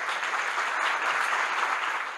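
Steady audience applause for a professor, dense even clapping filling the room without pause, moderately loud and unbroken from start to finish.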